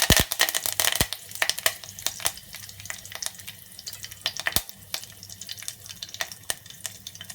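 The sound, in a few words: curry leaves sizzling in hot oil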